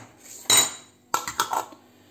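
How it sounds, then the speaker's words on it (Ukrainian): A lid goes onto a saucepan while pickled vegetables are prepared for winter: two close metallic clatters, a sharp clink, then a brief rattling settle after a short pause. "Так, накриваю я кришкою."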